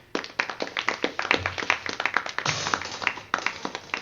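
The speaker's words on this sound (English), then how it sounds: "Everybody, give him a round of applause." Scattered clapping from a small audience rings out close by, sparse individual claps at an uneven rhythm across a few seconds, with no one talking.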